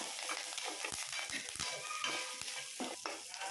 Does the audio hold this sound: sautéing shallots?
yes